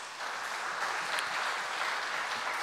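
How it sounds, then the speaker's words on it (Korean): A church congregation applauds teachers of its youth during a Korean Wednesday worship service, a steady, even wash of clapping heard from a distance that carries on throughout. "우리 교사 선생님들을 위해서 박수 한 번 더 하십시다."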